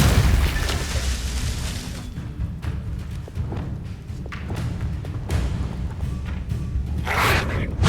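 A Depulso spell in Hogwarts Legacy lands as a deep booming thump within a loud, rumbling wash of game sound, with a brighter burst near the end.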